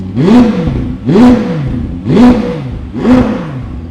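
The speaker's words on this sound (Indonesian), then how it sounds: "V8-nya tuh cepet sekali naik RPM-nya ya" A McLaren 750S V8 engine revs four times in quick succession, each sharp rise and fall evenly spaced, loud and close with no talking.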